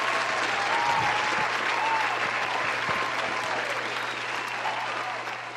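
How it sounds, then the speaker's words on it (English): A crowd claps loudly and continuously, the applause holding steady before gradually tapering off at the end. "round of applause for Easy pulling up on us."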